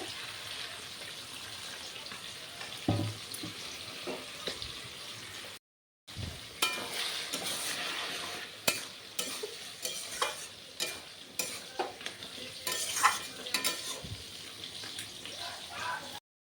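Fish head frying in a pan as water goes in, a steady hissing sizzle with rhythmic scrapes and knocks of a spatula stirring, close by, briefly cut off near the start before the stirring resumes more busily.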